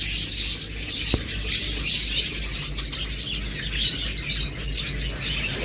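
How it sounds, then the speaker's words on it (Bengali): Caged pet lovebirds, budgerigars, cockatiels and finches chirp and tweet together in a steady, busy chatter that fills the air at close range. "এগুলো নিউ অ্যাডাল্ট পাখি, এরা নিজেরা জোড়া নিয়ে নিচ্ছে"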